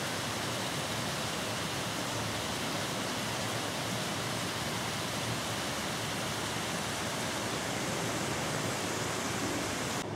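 The River Rib flows steadily, a broad, constant rushing of water heard close by on a countryside walk, with no pauses or voices over it.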